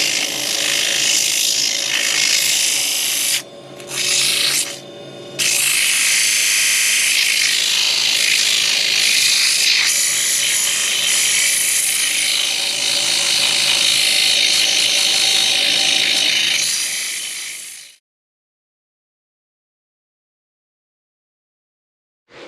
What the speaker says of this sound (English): Obviously you've seen me sand before, so I'm sure this will be sped up.